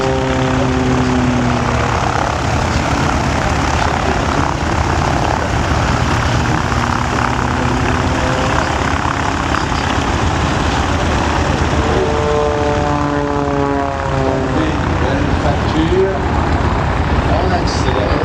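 A propeller airplane engine at the 2013 La Ferté air show drones loudly and continuously, its pitch shifting as it accelerates, with a voice audible in the background.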